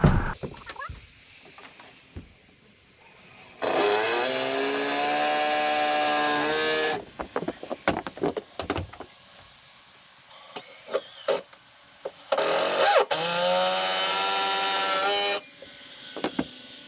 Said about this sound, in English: Gonna put several structural screws deep into the frame of the building.